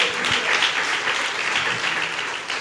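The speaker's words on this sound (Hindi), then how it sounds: "ताली बजा के प्रभु का धन्यवाद।" Congregation clapping together in thanks to God at a church gathering, a dense, lively applause of many hands, loud and continuous before gradually easing.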